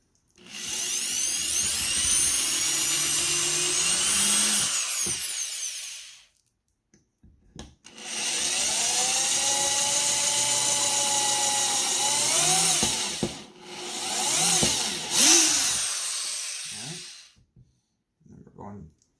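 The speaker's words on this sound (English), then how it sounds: "the first thing we're going to do is drill pilot holes" A power drill whirs in several long bursts while drilling pilot holes in wood, pitch rising and falling as it bites in, with short pauses between runs.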